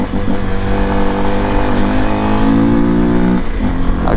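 A Honda XRE 300 Rally motorcycle's engine revs hard and steadily on a night ride, loud and close, its pitch climbing and then dropping back.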